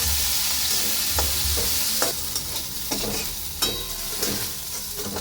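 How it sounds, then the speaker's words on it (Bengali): Soybean chunks fry in hot oil in a pan, with a steady bright sizzle and spatter throughout, punctuated by scattered clacks and scrapes of a utensil against the pan. "সোয়াবিনগুলো ভেজে নেব।"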